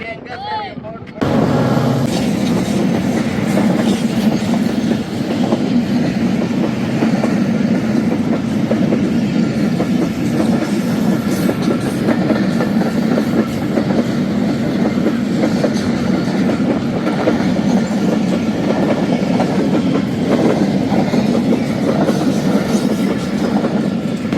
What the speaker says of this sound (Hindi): भाई कौन सी ट्रेन थी ये?